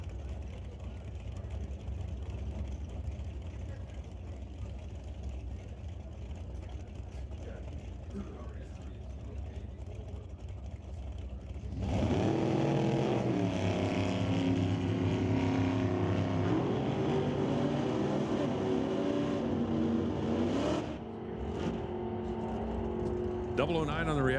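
Super Street drag race launch with Ray Carlson's Plymouth Barracuda against Zach Rice's car: quiet track ambience, then at about twelve seconds both engines roar to full throttle, loud and sustained, fading slightly near the end under announcer talk.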